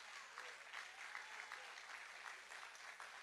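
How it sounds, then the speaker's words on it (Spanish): A church congregation applauds steadily, a soft but continuous patter of many hands lasting a few seconds. "eso es como para darle un aplauso al Señor"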